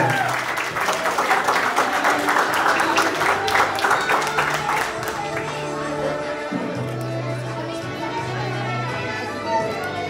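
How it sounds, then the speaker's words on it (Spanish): Crowd applause at a graduation ceremony, loud and dense at first, thinning to scattered claps, with a voice speaking over it and some music underneath. "¡Aplausos para ella!"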